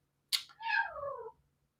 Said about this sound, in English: my cat is here to meow and get in the way